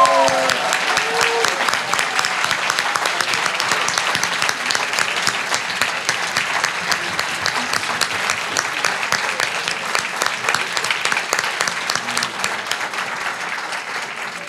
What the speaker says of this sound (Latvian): Tagad riktīgais lielais aplauss un paldies skolotājiem.